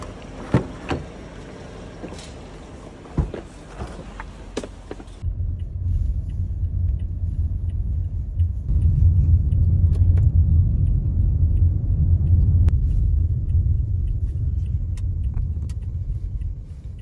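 Riding inside a Grab taxi on a short drive through Chiang Mai, Thailand: a few clicks and rattles at first, then a steady low engine and road rumble that swells and holds as the car moves along.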